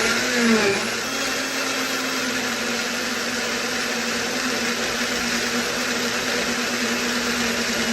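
A LAMPICK 900W personal blender whirs steadily as it purees banana and milk into a smoothie, a loud, even high-pitched motor whine that holds constant for several seconds, close up and with no talking.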